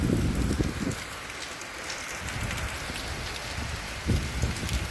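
Steady rain pours down close by in a garden, a dense continuous patter on surfaces with no voices.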